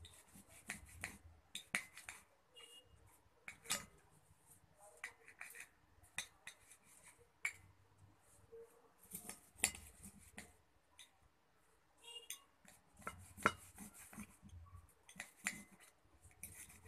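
A knife chops liver into small pieces on a board with quiet, irregular taps and scrapes. The cuts come in scattered bursts, faint and close.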